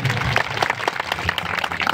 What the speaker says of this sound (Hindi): उनके लिए एक बार तालियां रवि भैया के लिए।